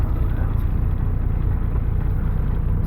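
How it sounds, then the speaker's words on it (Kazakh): A car engine idles steadily with a low, continuous rumble and faint whir, heard alone at close range during a cold winter stop on the snowy, icy highway from Almaty toward Yekaterinburg. "Машина оталдырып."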